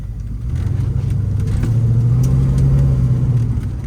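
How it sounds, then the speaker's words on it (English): A 1972 Plymouth Roadrunner with a 446 big-block Mopar V8 and six-pack carburetion drives at light throttle, its deep steady rumble swelling slightly as it pulls, loud and close with no talking. "As always, is typical for a big block Mopar, lots of off idle torque, barely touching the throttle here as we go for a drive"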